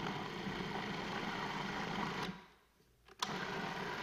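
A food processor blends vegan chocolate cheesecake ingredients with a steady, loud motor whir that drops away briefly, then starts up again.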